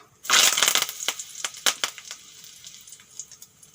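Cumin seeds and curry leaves hit hot oil in a sudden loud sizzling burst, followed by scattered sharp pops and crackles that fade over a few seconds.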